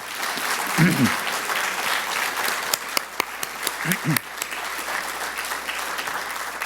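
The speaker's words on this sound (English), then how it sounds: "So special applause for our folks at Davis Media Access for the videos tonight." Sustained audience applause fills a hall during a bicycling hall of fame induction ceremony, steady broadband clapping throughout with a couple of brief voices rising near the start and middle, and a few sharp louder claps.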